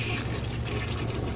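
A toilet flush in the BioShock video game produces a continuous rushing, gurgling wash of water that stays loud and steady for the whole brief moment.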